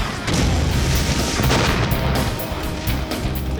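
RPG blast destroying a trailer, a heavy booming explosion with a loud sustained roar and crackling debris that fades over a few seconds, with no speech.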